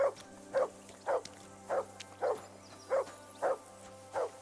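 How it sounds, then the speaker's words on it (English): A dog in the medieval video game Kingdom Come: Deliverance 2 barks in a steady series of about eight evenly spaced woofs over a low ambient drone. "Do something with that mutt, Henry. It's doing my head in"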